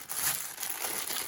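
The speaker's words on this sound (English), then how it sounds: "Get rid of that horrible plastic bag." A plastic bag crinkles and rustles loudly up close for about a second as it is pulled off and crumpled while unboxing a diamond painting kit.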